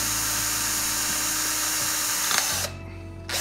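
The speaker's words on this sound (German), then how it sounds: "wir dann mit einem kleinen Bohrer durchbohren können" A small drill bores through an acrylic disc with its protective film still on, a loud steady high whine that cuts off abruptly near the end.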